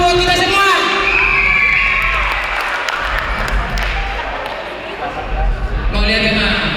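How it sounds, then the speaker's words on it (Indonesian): Crowd at a Batak clan association declaration and inauguration ceremony in Indonesia cheers, whoops and shouts, with some clapping mixed in, loud and continuous, while voices call out over the noise throughout. "Tepuk tangan dulu buat kita semua."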